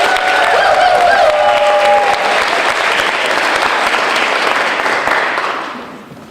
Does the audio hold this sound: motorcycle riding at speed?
no